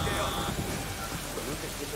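Steady video-game rain hisses across the whole stretch in Cyberpunk 2077, with low rumbling underneath and a faint murmur of voices mixed in.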